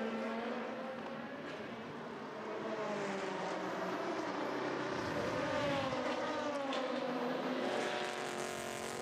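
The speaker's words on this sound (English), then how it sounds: "There goes Magnussen on the run to the Dunlop chicane" Race cars at the Le Mans circuit roar past on the run toward the Dunlop chicane, a sustained, rising and falling engine whine at moderate distance, with no one talking.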